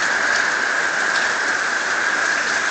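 Heavy rain pours steadily in a brutal storm, a dense, loud, even hiss of drops hitting surfaces with no pauses, alone without voices.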